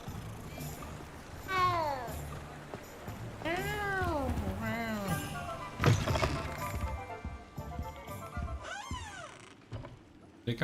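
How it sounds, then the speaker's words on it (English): A cat meows several times in Hogwarts Legacy, its rising-falling cries repeating through the scene alongside footsteps, game sounds and some talk. "Hey, kitty cat."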